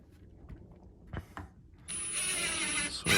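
A drill drives screws into a wood backer used for flashing repair. A couple of quiet clicks and knocks come first, then a short, loud burst of the driver spinning in close, with no voices.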